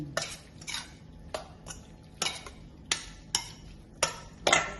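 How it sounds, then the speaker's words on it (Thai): Minced pork larb seasoned with fish sauce being stirred with a utensil, giving about eight crisp scraping clinks against the bowl in a loose, steady rhythm, close and fairly quiet with no talking. "คนให้เข้ากัน"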